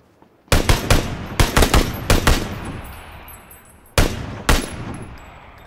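Bursts of gunfire from a video game: several sharp, loud shots in quick clusters, a pause, then two more close shots, with ringing decay between them and no talk.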